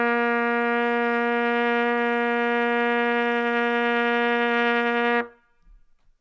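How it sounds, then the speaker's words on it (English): A trumpet sustains a single steady C for about five seconds, a bright, rich tone with strong harmonics that cuts off cleanly and leaves near silence, played solo and close with no talking. "So C sounds like this."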